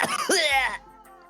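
A single voiced cough imitation from a synthetic character voice, close and loud, with a rising vocal sweep that fades into a low hum and quiet tail.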